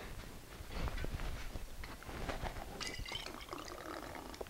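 Liquid pours from a bottle during a flair bartending move, a faint continuous trickling splash lasting several seconds, with no talk.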